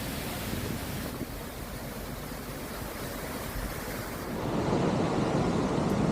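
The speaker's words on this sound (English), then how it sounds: "there's also a huge waterfall here" A waterfall gives off a constant broadband roar of rushing water that swells slightly louder toward the end.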